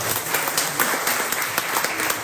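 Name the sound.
audience applause at a forum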